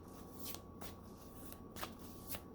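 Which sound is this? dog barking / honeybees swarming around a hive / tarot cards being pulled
tarot cards being pulled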